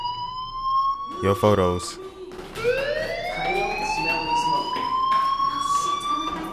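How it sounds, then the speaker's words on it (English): Fire alarm ringing in the Life is Strange video game, a loud electronic siren-like tone rising and wailing continuously, with a brief voice heard at the start beneath it. "Hey, do you hear that fire alarm? That means you should be outside."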